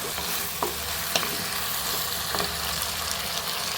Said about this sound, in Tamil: இப்போ நம்ம கத்திரிக்காயை போட்டு அந்த எண்ணெயிலே நல்லா வதக்கினா